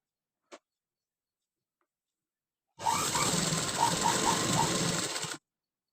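A sewing machine stitches the lining of a sleeve potli, a single close, steady whirring run of about two and a half seconds, preceded by one tiny click and otherwise silence.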